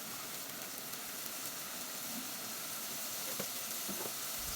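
Spice paste with salt fries in a pan for a bottle gourd curry, a steady, faint sizzle and hiss that runs evenly throughout with no talking.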